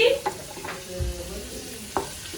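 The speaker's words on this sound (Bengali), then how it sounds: "এই যে পাঁপড় ভেজে প্রথম পাঁপড়টা যে ভাজলাম পুড়ে গেছে, এটাও পুড়ে যাচ্ছে।" Papad frying in a hot pan and starting to burn, giving a quiet continuous sizzle broken by a few short stirring scrapes and taps.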